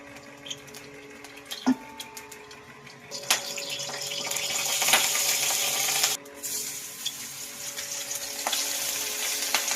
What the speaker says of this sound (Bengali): প্রথমে কড়াইয়ে মাছগুলো আমি একটু হালকা করে ভেজে নেবো, খুবই হালকা করে ভেজে নেবো